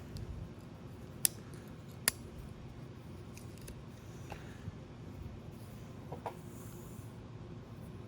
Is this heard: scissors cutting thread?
yes